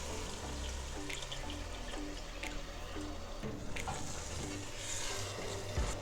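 Coconut milk pouring into a simmering prawn curry sauce, a soft steady liquid stream with light splashing, close and fairly quiet throughout.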